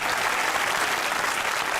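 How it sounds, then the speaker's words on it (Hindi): A studio audience at a Pakistani talk show claps steadily in a dense, even burst of applause that fills the brief moment without any voices on top. "जमात के लिए तालियां होनी चाहिए।"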